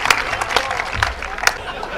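An audience at a Kavi Sammelan in Mandsaur applauds to welcome the poet Sabiya, a dense, close burst of clapping with a few sharper claps standing out.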